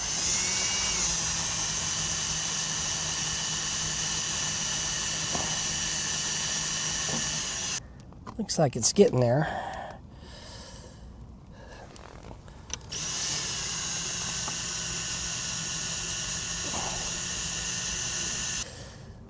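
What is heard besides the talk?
drill boring into stainless steel tube underwater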